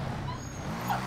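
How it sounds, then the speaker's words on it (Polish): A brief, whiny vocal sound of a dog yawning, rising then fading, close by over a steady background rumble inside a car. "Zastanawiałem się, co to za dźwięk był, a to pies ziewał za mną."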